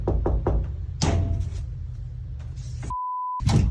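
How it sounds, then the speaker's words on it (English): Knocking on a door in a ghost video, heard as a quick run of sharp raps early on, then a louder knock, steady background noise, and a sustained electronic beep tone near the end. "Dom steps outside and knocks on the door himself, but the response actually comes from the closet door next to him"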